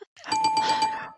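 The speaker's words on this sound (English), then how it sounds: "4 bells, Dewayne." A bell rings, four quick evenly spaced strikes merging into one bright sustained metallic tone that fades out, close and clear with no talk.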